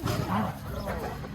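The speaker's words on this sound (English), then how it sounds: "Don't mind the dogs having a good old play right now." Puppies play-growling and snarling at each other close by, a rough continuous rumble with louder snarls early on.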